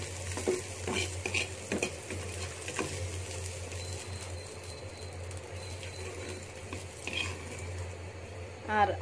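Onions fry softly in a pan while a utensil scrapes and stirs them, a quiet continuous sizzle broken by irregular clinks and scrapes of metal against the pan.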